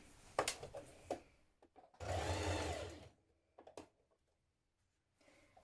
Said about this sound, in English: we're going to edge stitch that bias tape down